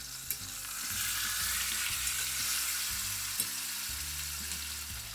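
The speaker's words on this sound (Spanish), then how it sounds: "Con el aceite de oliva caliente marcamos la pieza de lomo." A pork loin sears in hot olive oil, producing a continuous, close, even sizzle with a few small pops and soft music playing underneath.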